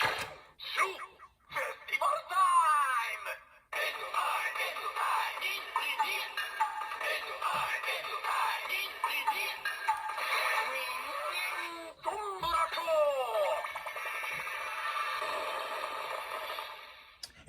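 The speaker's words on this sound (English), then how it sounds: "that standby noise, if you're familiar with Ninja, that is from the Chozetsu Shobu Changer" A Chozetsu Shobu Changer toy from Ninninger plays its electronic standby sound effect, a looping synthetic melody with warbling, sweeping tones that run continuously, briefly cut out, and then restart.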